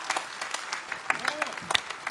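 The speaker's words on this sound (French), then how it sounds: "je vous invite, voilà, à les applaudir très fortement" Applause from a crowd at a political rally in Clermont-Ferrand, a sustained patter of clapping with scattered sharper claps and voices calling out within it, moderately distant.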